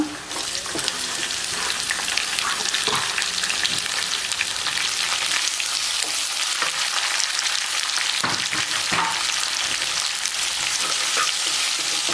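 Green chillies, curry leaves and sliced onions fry in hot oil with a loud, unbroken crackling sizzle, and scattered spatula scrapes and knocks sound throughout.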